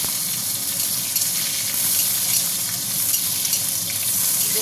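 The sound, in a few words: potatoes frying in oil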